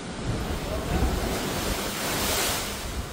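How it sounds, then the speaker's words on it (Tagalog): Big ocean waves crash and surge continuously against a seawall in Iloilo City during rough weather, with strong wind roaring over the surf; loud and close, no voices. "dahil sa lakas ng hampas na naglalakihang alon"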